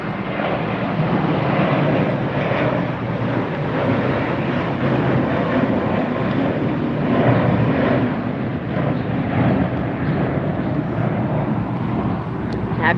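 JetBlue airliner at LAX airport, a steady broadband jet roar that holds loud and constant for the whole stretch, with no voices over it.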